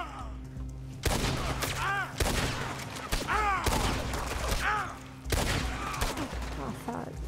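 Heavy gunfire in Red Dead Redemption 2, with loud repeated volleys of rapid shots and ricochet-like whines coming in bursts about every second over several seconds.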